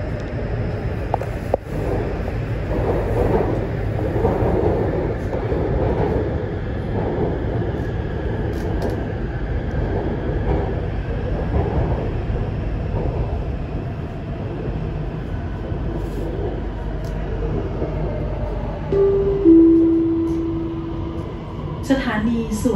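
A Bangkok MRT Blue Line metro train rumbles along underground between Bang Pho and Chatuchak Park, with a steady loud rolling roar and a brief rising whine near the end, under recorded onboard announcements.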